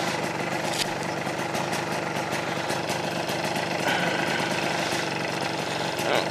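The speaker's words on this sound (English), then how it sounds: "2-stroke single" A 1976 Harley-Davidson Aermacchi SS 250 two-stroke single-cylinder motorcycle idles close by, a steady dense rumble holding at one level throughout with no voices.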